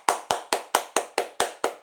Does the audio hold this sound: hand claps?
yes